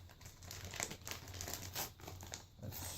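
Plastic wrappers on individually wrapped airsoft patches crinkle and crumple steadily as a package is opened up close, with short tearing rustles throughout and no talking.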